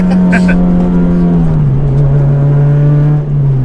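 Honda Integra Type R DC5 engine revving hard into VTEC, a loud, steady high-pitched engine note that holds and dips slightly near the end, with a brief voice early on.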